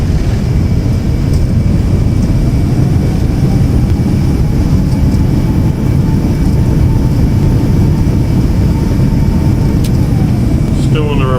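An airliner's engines roar steadily in reverse thrust just after landing in X-Plane 11, a dense, constant, loud low rumble that holds evenly throughout beneath a voice.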